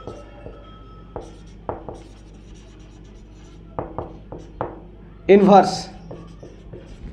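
Scattered marker or chalk strokes on a board during a maths lesson on multiplication properties, short separate scratches and taps heard up close, broken by a brief spoken word near the end.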